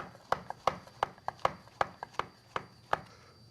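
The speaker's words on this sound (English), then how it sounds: "some cremini mushrooms, and some oyster mushrooms. We're just going to finely chop those up, or roughly chop those up." A knife roughly chops cremini and oyster mushrooms in a brisk, fairly regular run of about a dozen crisp, close knocks, with no speech.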